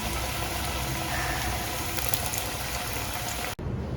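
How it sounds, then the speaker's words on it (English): Steady, dense sizzling of eggplant slices frying in hot oil, continuous and close, ending with a sudden cut. "nicely frying them"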